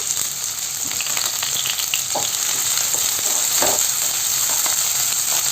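Finely chopped onion sautéing in coconut oil in a kadai, giving a loud, steady, continuous sizzle with scattered crackles and pops throughout, with no voices.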